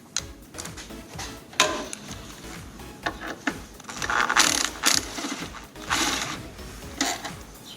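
A ratchet clicks in quick bursts of ticking strokes while a bolt is loosened under the hood of a Dodge Journey, close and fairly loud, with short pauses between runs and no talking.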